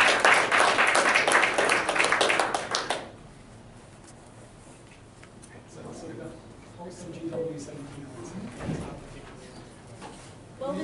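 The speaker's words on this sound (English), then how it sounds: "Let's give Jenny one more round of applause." Applause from a colloquium audience, loud and dense for about three seconds before stopping abruptly, with quieter room sounds and scattered voices afterward.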